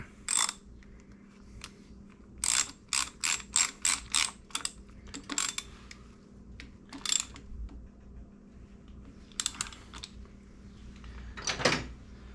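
A ratchet wrench tightens a bolt on a Harley Sportster motorcycle during regulator/rectifier and stator replacement, giving close, sharp clicking bursts: a single pass, then a rapid run of six or so strokes, then scattered strokes with pauses; no voices.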